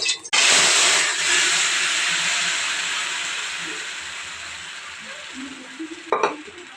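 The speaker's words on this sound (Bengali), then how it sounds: "একটা বড় কড়াইয়ের মধ্যে একটু পাঁচফোড়ন, হালকা করে পাঁচফোড়ন দিয়ে নাড়াচাড়া করছি আর কি" Panch phoron spices sizzle and crackle in hot oil in a large wok while being stirred: a loud hiss bursts in and slowly fades, with a scrape of the stirring near the end.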